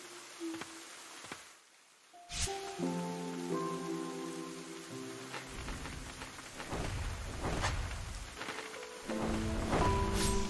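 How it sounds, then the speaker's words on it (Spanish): Steady rain from the video game Ender Lilies: Quietus of the Knights pours and patters as a continuous wash, with a low rumble of thunder, while soft sustained game music tones play over it. "Permanentemente, mientras llueve por la tragedia."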